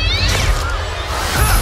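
A cat meows in a short, loud, rising cry that lasts under two seconds, with a busy room-tone backdrop and no clear speech.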